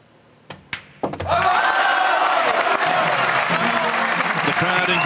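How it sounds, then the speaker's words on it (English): A crowd at the 2019 World Pool Masters final bursts into loud, sustained applause and cheering after a couple of sharp knocks, the clapping dense and steady to the end. "Crowd in good voice there."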